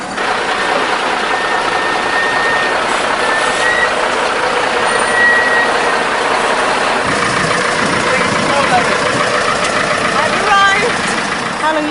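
A Scammell truck engine idles steadily at dusk with a loud, continuous low rumble throughout, while voices talk faintly over it.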